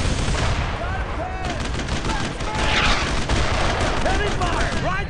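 Heavy suppressing gunfire in the World War II shooter Brothers in Arms, continuous overlapping rifle and machine-gun bursts with booming impacts, loud and chaotic, with shouted voices mixed into the battle.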